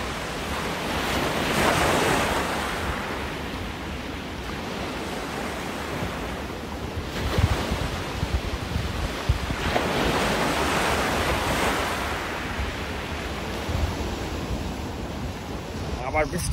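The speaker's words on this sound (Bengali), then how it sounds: "এইখানকার জলের ঢেউ তো মনে হচ্ছে আরো বেশি," Sea waves rolling onto the beach along the coast between Mandarmani and Digha, a loud broad roar that surges and recedes in slow swells, with heavy wind buffeting the microphone.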